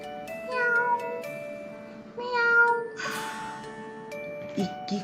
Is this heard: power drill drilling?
no